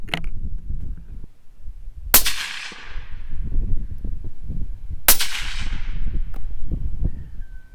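Two loud, sharp supersonic 300 Blackout rifle shots from a Ruger American crack about three seconds apart outdoors, each followed by a decaying echo over faint background noise.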